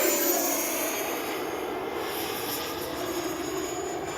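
E-flite 90mm Viper RC jet's electric ducted-fan motor whining steadily in flight, a continuous loud high-pitched rush with no voices.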